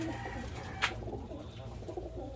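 A Birmingham Roller pigeon resting on its perch in the loft gives a soft, low coo, close and quiet against faint background noise, with one brief sharp click partway through.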